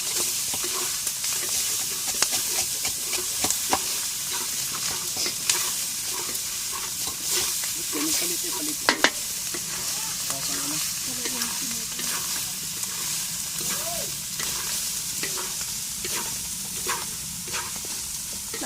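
Dinuguan, a Filipino pork blood stew, is stirred in a frying pan over a steady sizzle, with spoon scrapes and occasional knocks against the pan continuing throughout and no talking.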